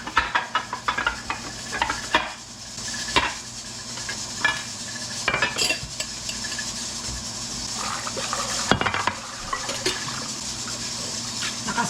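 Ingredients for pork ribs kaldereta sautéing in a pan, a steady close sizzle with repeated scraping stirs and clatters of a utensil against the pan throughout, no voices.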